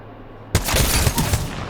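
A G7 rifle fires in a video game, a rapid burst of several loud, close shots that starts abruptly after a brief quiet moment and rings out for about a second.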